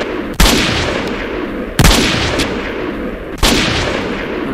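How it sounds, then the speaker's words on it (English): Three loud, separate sniper rifle shots from the most powerful rifle in a Garry's Mod mod pack, each a sharp crack with a long echoing tail, spaced about a second and a half apart. "This is the most powerful sniper rifle in that mod pack."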